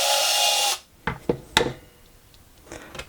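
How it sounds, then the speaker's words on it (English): A bolt is removed from the rubber base of a Boss guitar pedal: a loud whirring power-tool burst stops abruptly, then a few short scraping and clicking handling sounds follow up close. "So what we do is take out the bolt,"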